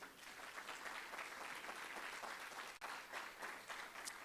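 A church congregation applauds, a faint, steady wash of clapping from many hands heard at a distance for several seconds, with no voices standing out.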